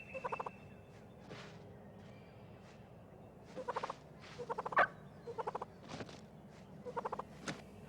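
An eastern wild turkey gobbles in repeated rapid, rattling bursts, several of them across a quiet outdoor background. The calls are moderately distant and come one after another without any voice.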